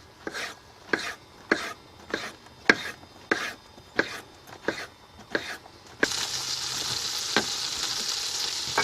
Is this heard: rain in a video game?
no